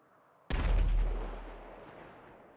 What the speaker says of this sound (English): There's explosions happening